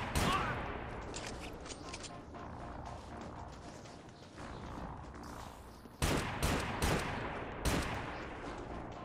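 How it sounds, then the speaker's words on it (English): Shots ring out in a video game set among Army Rangers and Soviet-era conflicts. A busy run of gunfire fades down midway, then sharp, close single pistol shots crack out near the end. "Shooting it doesn't take it out."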